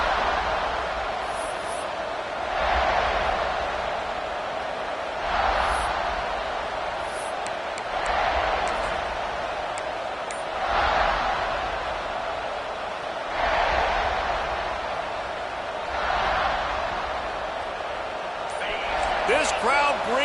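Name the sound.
stadium crowd noise at college football game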